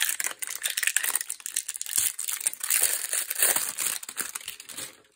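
Plastic packaging around scrapbooking supplies crinkles and crackles steadily as it is torn open by hand, a busy close-up rustle with no talking.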